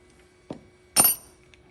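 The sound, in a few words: metal engine guard clamp being removed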